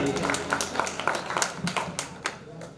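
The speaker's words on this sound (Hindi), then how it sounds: "एक बार जोरदार तालियां के लिए" Audience applause at a Hindi kavi sammelan poetry gathering, scattered claps from a crowd in a loose, uneven patter, moderately loud and steady throughout.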